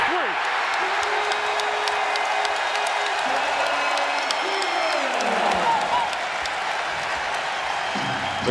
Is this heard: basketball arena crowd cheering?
yes